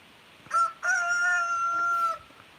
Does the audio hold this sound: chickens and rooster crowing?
yes